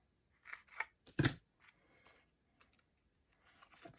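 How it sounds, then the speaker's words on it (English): Scissors snip paper for a handmade dragonfly card, a few quick close cuts followed by faint, scattered rustles and small clicks. "cut a piece here"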